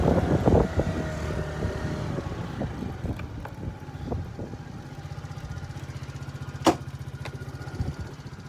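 A TaoTao 50cc scooter engine that still needs carburetor adjustment runs nearby with an uneven putter and occasional pops, settling into a fast, steady idle chatter under some wind noise.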